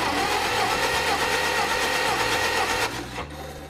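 Vintage Allis Chalmers forklift engine cranking over during a compression test on cylinder one, a steady rhythmic churning of the starter and pistons that drops off abruptly near the end.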